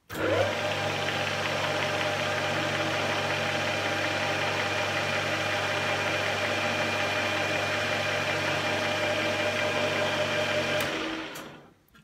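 Car engine driving a six-speed gearbox, giving a loud, steady drone with a whining gear tone layered over it. It holds continuously for about eleven seconds, then fades out quickly.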